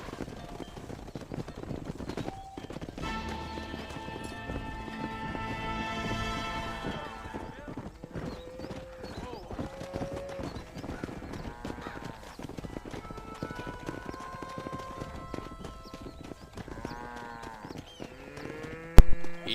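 Horse hooves clip-clop steadily while herding cattle in the Western game Red Dead Redemption, with occasional cattle lowing and a horse whinny, under ongoing game dialogue and music, a louder thump at the very end.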